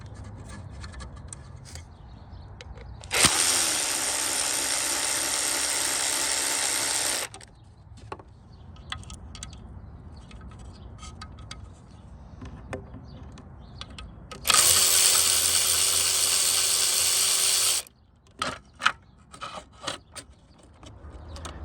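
A power tool whirs in two steady runs of about four and three seconds, driving out triple-square bolts on an Audi 2.0T turbo engine, with scattered metallic clicks and taps of handling between and after.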